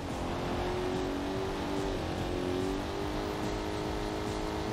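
A Corvette C3 engine revving in the racing video game Corvette: 50th Anniversary, a continuous loud engine drone with rising and falling pitch as the car accelerates, steady throughout and alone.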